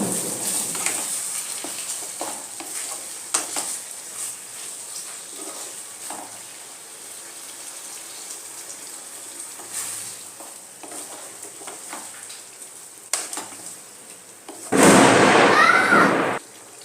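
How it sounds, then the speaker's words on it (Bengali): Chicken curry gravy, thinned with a little water, boils on high heat in a pan, with sporadic soft pops and bubbling under occasional talk, then a sudden loud hissing surge near the end. "দেখুন ঝোলটা আমার ফুটে গেছে"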